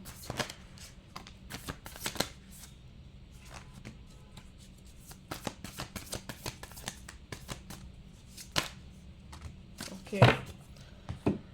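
Tarot cards are shuffled and riffled in a steady run of quick, crisp flutters and soft slaps, close and fairly quiet, with a louder snap of the deck near the end; no one speaks.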